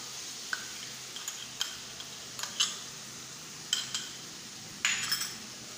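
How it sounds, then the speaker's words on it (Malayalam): A spoon stirs chilli powder through a pan of sizzling sauce while sautéing for chilli paneer, giving a soft steady fry hiss under scattered clinks and scrapes of the utensil against the pan, without talk. "ആ മുളക് പൊടിയുടെ പച്ചമണം മാറുന്ന വരെ ഒന്ന് വഴറ്റി കൊടുക്കാം"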